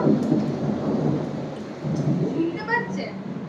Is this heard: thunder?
yes